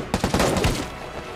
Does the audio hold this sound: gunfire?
yes